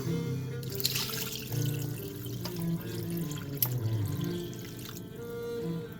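Liquid pours into a massive bowl in a faint, steady trickling stream that runs for several seconds with no voices.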